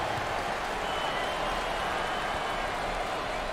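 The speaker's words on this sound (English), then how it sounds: "Listen to this crowd. Oh, there's all kinds of people standing and cheering and going wacky." Fans at a 2021 NCAA Tournament first-round basketball game between New Mexico and UCSB cheer and applaud in a continuous, loud wash of crowd noise, with a commentator's voice over it.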